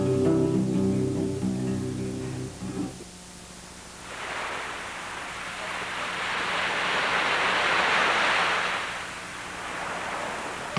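Sea waves on the shore at Praia da Laranjeira, a broad hissing wash that swells up after a few seconds, holds, then recedes, following a short stretch of other sound at the start.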